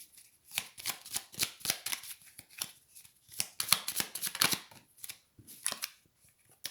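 Oracle cards are shuffled up close in quick, crisp riffling flutters and slaps that repeat in an uneven rhythm, quiet and with no voices.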